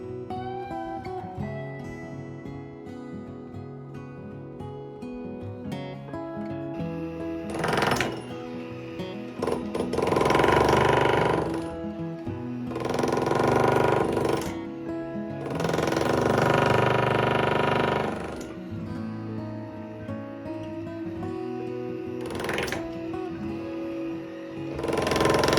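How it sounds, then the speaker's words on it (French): A jackhammer breaks up the concrete slab that once supported an old freezer, loud hammering bursts of a few seconds each rising over a steady mechanical engine drone. "Le marteau-piqueur fait son affaire de la dalle qui supportait l'ancien congélateur."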